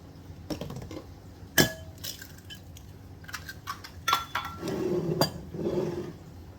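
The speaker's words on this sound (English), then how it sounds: "I'm just cracking my eggs up at the minute, get them back in there, like so." Eggs are cracked into a bowl while making a bacon, onion and mushroom quiche: several sharp, close taps and clinks of shell against the rim come at irregular intervals, followed by soft wet slops and faint rattling.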